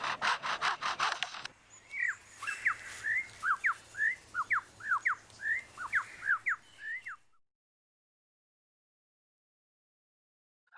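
A person mimics a chainsaw with the mouth, making a run of about a dozen rising, buzzing revving bursts, followed by silence.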